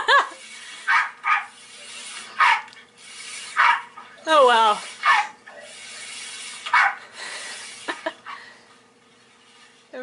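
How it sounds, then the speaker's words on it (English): A dog barks and whimpers in short bursts spread across the clip, close and fairly loud, and a person briefly speaks in between. "This dog had a better summer than me."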